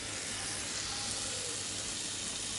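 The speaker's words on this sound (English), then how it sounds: "Just look at the sizzle and the smoke that's coming out of those wraps." Ground beef tortilla wraps sizzle on a grill with a steady, close hiss and crackle of frying, continuous and unbroken for a short stretch with no talking.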